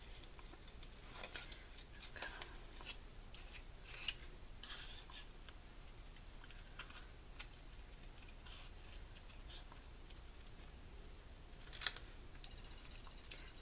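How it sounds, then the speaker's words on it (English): Scissors trimming around a stamped paper lighthouse image for a handmade card, with quiet, rapid snips and ticks close by and two sharper cuts standing out. "This is an easy image to cut out."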